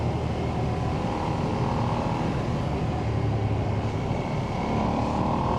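A 2025 Ducati Streetfighter V2S motorcycle rides along twisty, tight roads, its engine and exhaust a steady, continuous drone with rumbling low end and wind noise throughout, loud and close with no talking.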